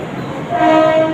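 A loud, steady train horn sounds over the rumble of a Virar–Churchgate AC local train getting under way, swelling midway and holding to the end.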